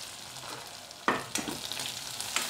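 Onions hit hot oil with a sudden loud hiss, then keep frying in a steady crackling sizzle, with brief scraping bursts of stirring.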